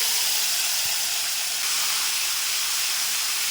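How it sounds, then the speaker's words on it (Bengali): Black cumin, green chili, ginger and tomato paste sizzle in hot oil, making a steady, close, even hiss that runs unbroken throughout with no voices. "তেলের মধ্যে দিয়ে দেবো আমি কালো জিরে, দেবো কাঁচা লঙ্কা, আদা আর টমেটো পেস্ট।"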